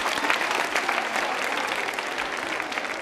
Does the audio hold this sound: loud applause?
yes